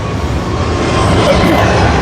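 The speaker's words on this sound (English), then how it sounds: "it's always good to see the aeroplane flying across" An airplane passes overhead with a broad, steady engine roar, loud and continuous, with no clear voices.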